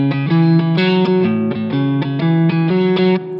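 Electric guitar plays a blues riff stepping through root, major third, fifth and sixth in a quick even rhythm, slightly overdriven and close, about a dozen notes with no talking.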